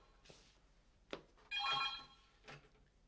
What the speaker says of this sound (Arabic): رجع التليفون، ايديني مشغوله